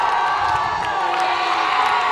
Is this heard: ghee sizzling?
no